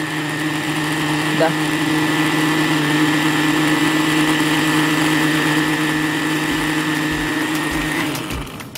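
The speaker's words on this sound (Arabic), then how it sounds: "هبتدي هنا اجيب الخلاط واحط فيه الرز بلبن" An electric blender runs steadily for about eight seconds while blending rice pudding in a home kitchen, a loud continuous motor whir with sustained tones that cuts off near the end, and a brief spoken word partway through.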